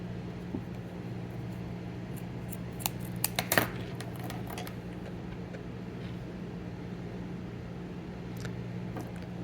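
Scissors snip through a small white piece for a craft Christmas penguin's tail, with a brief cluster of crisp cuts near the middle over steady low background hum, close and fairly quiet.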